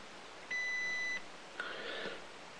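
An RC car's electronic speed controller powering up gives a steady electronic beep of about two-thirds of a second, then a short click and a softer, brief rising tone, all close and clear over quiet background hiss.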